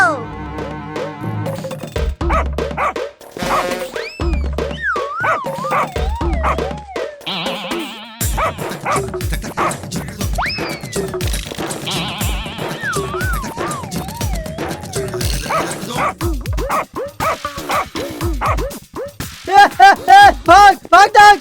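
A cartoon dog yelps and barks in short bursts while chasing someone, mixed with excited cartoon voices talking and shouting over it, and music and effects rising near the end.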